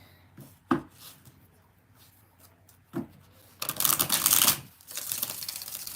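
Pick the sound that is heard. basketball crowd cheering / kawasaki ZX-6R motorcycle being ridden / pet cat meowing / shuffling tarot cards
shuffling tarot cards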